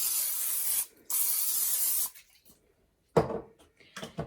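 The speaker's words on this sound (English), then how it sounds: "I'm going to spray my pot." Cooking spray hisses from a can into a pot in two short bursts, close and bright, followed by a pause and then a few clanks and knocks of the pot.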